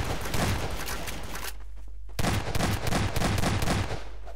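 Sustained automatic gunfire in a Gmod Jurassic Park game, rapid loud bursts that break off for a moment of quiet and then resume just as heavily.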